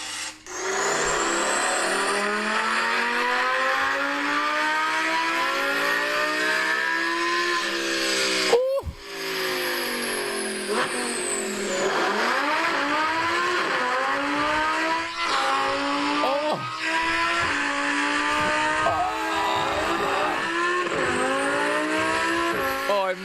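A car engine revving hard and loud, pitch sweeping up and down through repeated rises and drops over a long continuous stretch.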